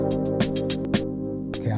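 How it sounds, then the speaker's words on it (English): Roland JU-06 synthesizer played dry with no effects, a sustained chord pad under a run of short bright plucked stabs in a quick, uneven rhythm. "What you're hearing right now is strictly the Ju06 with no effects."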